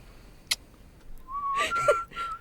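A person tries to whistle, producing a thin wavering tone that breaks off and restarts after a sharp click, with breathy noise around it.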